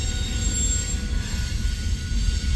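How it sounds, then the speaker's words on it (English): A freight train rolls past on its way to the Council Bluffs power plant, giving a continuous heavy low rumble of wheels on rails with faint thin squealing tones, steady and close, no talking. "I believe this train is going right there to Council Bluffs"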